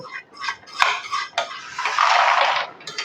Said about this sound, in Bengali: এখন এর মধ্যে আমি খুরমাগুলোকে দিয়ে দেব